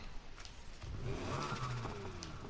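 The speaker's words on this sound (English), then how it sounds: "this engine sounds better, but it's actually quieter" A V8 car engine in the Need for Speed Heat racing game revs up, its tone rising and holding steady, fairly quiet and heard alone.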